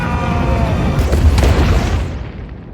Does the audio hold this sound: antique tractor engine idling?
no